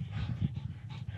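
Dogs panting during a rest break on a mountain hike up Colorado 14ers, quick rhythmic breaths, faint and close, with no talk.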